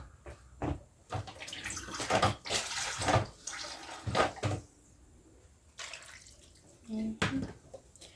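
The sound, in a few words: adding a little water to pork menudo while cooking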